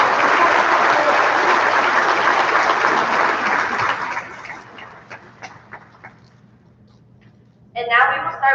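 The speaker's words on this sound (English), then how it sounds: "Please give all of these individuals a warm round of applause." An awards program audience applauds honored individuals, a dense sustained wash of clapping for about four seconds that thins into scattered individual claps and fades, before a voice begins speaking.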